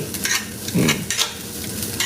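Scraping and stirring fried rice in a frying pan with steady sizzling underneath, a few louder scrapes standing out, close by.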